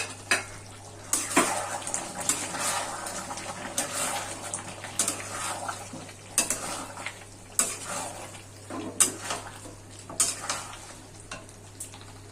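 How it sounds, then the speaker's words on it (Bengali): Chicken curry in a pan being stirred with a metal spoon, repeated clattering scrapes and clinks against the pan over a low sizzle, close and irregular, with a steady low hum underneath. "আমি এখন নাড়াচাড়া করে দেবো আবার"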